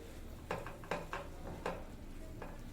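Quiet spoon scrapes and clinks against a pan while fried raw banana is stirred into masala for vazhaikkai varuval, about half a dozen irregular strokes over a soft frying hiss.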